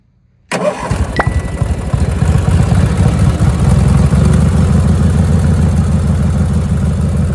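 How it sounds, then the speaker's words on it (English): A rat rod car engine fired up by remote start catches abruptly and settles into a loud, steady, rumbling idle close by, with no talking. "All right, remote start."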